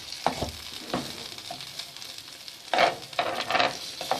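Beef undercut steak sizzling in a pan, a steady bright hiss of frying broken by louder spurts as the meat is stirred or turned, close and alone with no talk.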